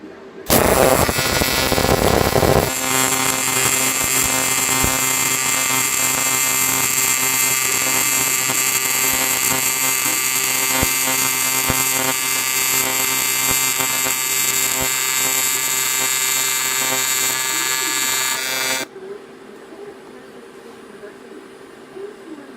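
TIG welding aluminum at about 75 amps with 4043 filler rod, a steady loud crackling buzz with a humming undertone after a brief harsher start, cutting off near the end.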